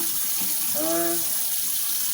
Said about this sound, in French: ouvrez votre robinet